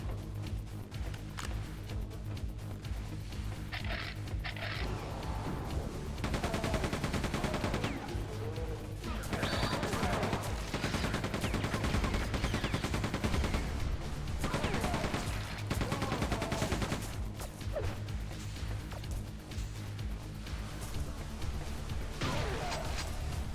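Dense gunfire and booming explosions from the Quake II remaster video game fill the whole stretch, with rapid bursts of shots, heavy crashes and loud blasts that keep going almost without a break.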